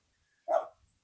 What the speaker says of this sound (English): As you can hear, the neighbor's dog